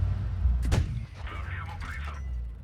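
A tank cannon in a video game fires a single heavy, booming shell around the start, followed by a mechanical autoloader clank and ringing, all over a steady low engine rumble.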